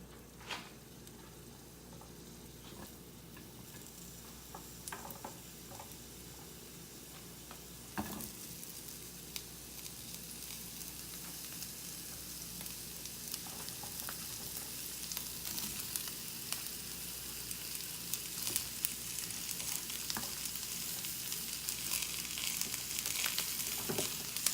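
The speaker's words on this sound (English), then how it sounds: "Now I'm going to drop my onion rings onto the saute pan." Onion rings sauté in a sauté pan, a quiet steady sizzle and crackle that grows gradually louder and brighter, with scattered small pops and no talk.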